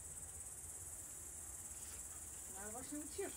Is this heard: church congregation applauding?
no